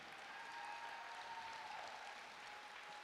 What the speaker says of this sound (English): One more round of applause for the ladies.